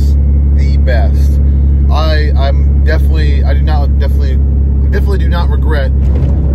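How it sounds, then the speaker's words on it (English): A lowered 6.7 Cummins pickup truck drives along the road, its engine a deep, constant drone inside the cab while someone talks over it. "So I'm driving right now, and with this new setup, oh my gosh, it is the best."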